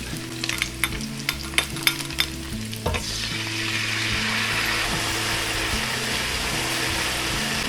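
Potatoes and mushrooms stir-fried in a pan: a run of sharp spatula clacks and scrapes, then a louder, continuous sizzle as sauce hits the hot pan.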